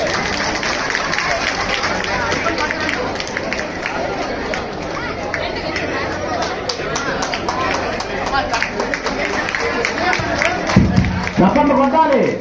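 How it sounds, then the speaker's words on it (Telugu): A dense crowd at a Telugu political gathering claps hands continuously, a steady wash of applause mixed with background chatter and babble, with a burst of louder noise near the end. "చప్పట్లు కొట్టాలి"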